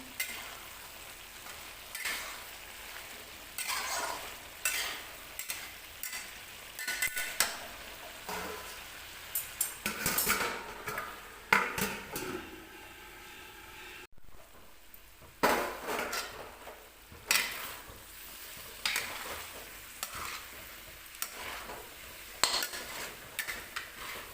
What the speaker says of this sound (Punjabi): ਥੋੜੇ ਥੋੜੇ ਟਾਈਮ ਬਾਅਦ ਹਿਲਾਉਣਾ ਚਾਹੀਦਾ